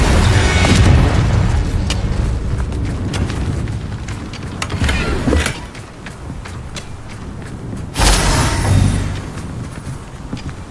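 Confringo fire spell bursting in combat in Hogwarts Legacy, with heavy booming explosions, one strong blast near the start and another around the eighth second, amid clattering battle noise.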